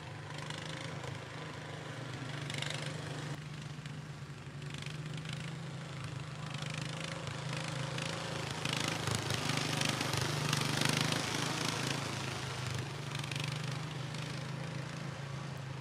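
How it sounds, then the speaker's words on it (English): A John Deere 4020 tractor rumbles at a tractor pull, its engine note steady and fairly distant under broad crowd and outdoor noise, swelling slightly midway as it backs up. "backing up in the 4020 John Deere"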